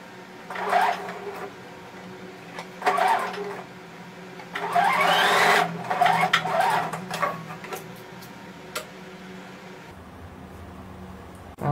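Short bursts of a sewing machine stitching fabric pieces for a plush fox comforter toy, several uneven runs of whirring with pauses between, close and fairly loud over a faint steady background hum.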